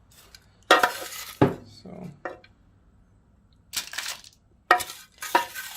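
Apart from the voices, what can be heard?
filling a plant pot with potting soil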